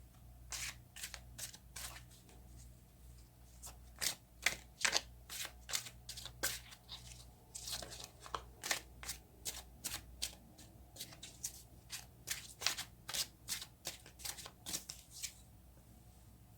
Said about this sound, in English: let's get some cards and see what we find out